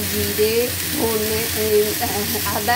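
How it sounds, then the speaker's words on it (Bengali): Vegetables sizzle and fry steadily in a hot pan, with light stirring clatter over a constant crackling hiss. "সবজি ভালো করে ভেজেছি"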